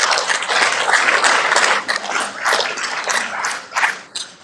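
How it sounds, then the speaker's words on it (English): Conference audience applauding together, a dense wash of many hands clapping at close range that swells, then thins and tapers toward the end. "Please, let's give them a hand of applause."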